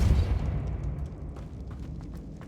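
A Depulso spell cast in the Hogwarts Legacy video game lands as one forceful, deep boom at the start, then fades into a low rumbling decay.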